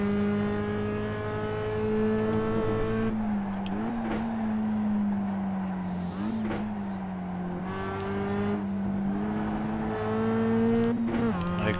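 A race car engine in the iRacing sim drones loudly throughout, rising in pitch under acceleration with several quick gear shifts and brief lifts off the throttle, without talk.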